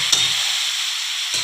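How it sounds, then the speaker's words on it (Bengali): Boiled banana flower is stirred into spices frying in oil, giving a steady bright sizzle. Soft scraping of the stirring spoon comes near the start and again at the end, with no talking. "মশলাটা ভাজা হয়ে গেছে, এইবার আমি যে সেদ্ধ করে রেখেছি মোচাটা এতে আমি অ্যাড করে দেবো"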